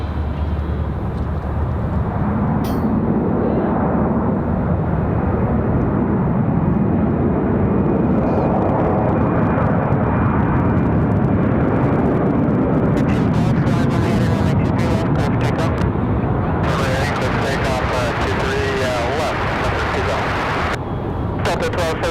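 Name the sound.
airliner landing with thrust reversers deployed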